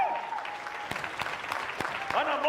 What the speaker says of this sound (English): Okay, dads, clap for each other.